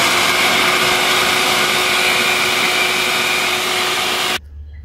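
A kitchen blender grinds leftover white bread into breadcrumbs, a loud, steady motor roar for over four seconds before switching off abruptly into quiet.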